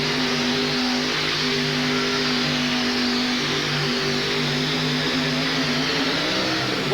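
A pulling truck engine at a 1988 truck and tractor pull in Denver roars and revs continuously, loud and sustained, with steady droning harmonics that shift slightly in pitch.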